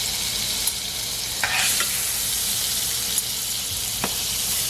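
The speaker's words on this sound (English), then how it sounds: "I'm gonna just put a little bit more of this non-butter butter in the pan" Non-dairy butter sizzling and frying in a pan during brunch cooking, a steady close hiss with a few soft stirring scrapes and clicks, no voices.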